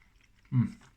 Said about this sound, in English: Got a bit of crunch from the gherkin that time.